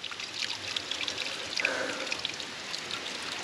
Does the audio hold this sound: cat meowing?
no